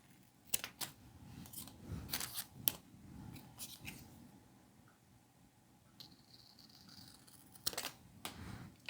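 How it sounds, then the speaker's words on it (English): Scissors snip through printed photos to cut them in half for a scrapbook journal spread, giving a series of crisp close cuts with paper rustling and handling noises in between. "Gotta cut these ones in half."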